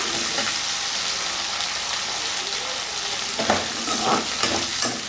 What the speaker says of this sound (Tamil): இது வந்து நல்லா வதங்கணும்.